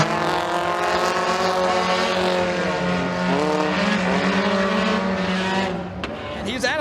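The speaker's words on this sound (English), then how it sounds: "off of turn 4 onto the front straightaway, it is going to be Braden Williams who scores the victory in the kids class" Kids mini stock race cars roaring on the dirt oval at McKean County Raceway, a sustained loud engine drone with rising and falling pitch as cars pass, ending in a brief drop-off.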